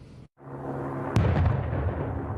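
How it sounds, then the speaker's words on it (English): A single heavy boom from military drills near landing Army helicopters at the Port of Long Beach strikes sharply after a brief hush, then rolls into a long, low rumbling decay, loud and somewhat distant. "Loud explosions as Army choppers land near this Port of Long Beach building."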